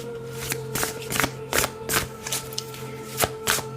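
Tarot cards being shuffled by hand in a series of quick riffling bursts, about eight close, crisp flurries spaced by short pauses over a steady low hum.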